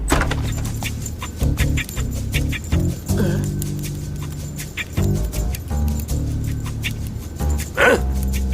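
A dog in the animated series Code Lyoko barks in a series of sharp, close yaps and yips over a busy background, with no talk.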